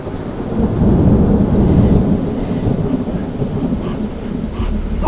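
A deep rolling rumble of thunder over steady heavy rain, loud and sustained, with a few sharper cracks near the end.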